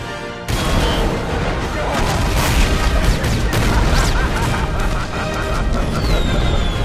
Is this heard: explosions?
yes